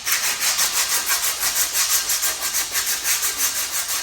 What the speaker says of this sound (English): just keep rubbing it down till the whole thing's smooth